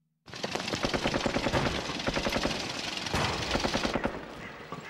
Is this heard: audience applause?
no